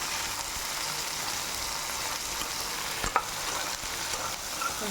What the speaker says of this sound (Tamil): இந்த எண்ணெயிலே நல்லா வதக்கிட்டு பாருங்க